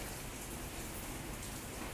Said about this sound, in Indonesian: hujan pun tidak berhenti turun